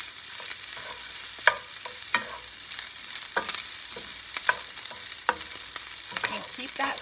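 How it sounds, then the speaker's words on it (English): Rice frying in a pan with melting butter gives a steady sizzle, broken by sharp scrapes and clinks as a utensil stirs it every second or so. No one speaks. "That butter is going to melt in there with that rice,"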